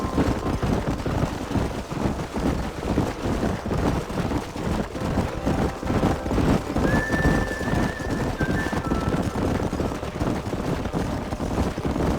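Horses neigh and whinny over steady clip-clopping hooves during a canyon horse drive in the video game Red Dead Redemption, a continuous close, busy herd sound with a brief high whinny partway through.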